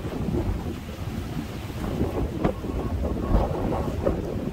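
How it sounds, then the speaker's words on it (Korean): Strong, steady wind buffets the microphone at Mulchi fishing harbour, a continuous loud low-frequency roar with gusts and rumbling bursts and no voices. "오늘 바람이 많이 불어갔고요"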